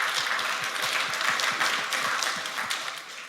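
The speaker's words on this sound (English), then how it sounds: "Yeah, round of applause." Conference audience at NixCon 2025 applauding a talk, a burst of many hands clapping close together that swells briefly and then slowly fades out.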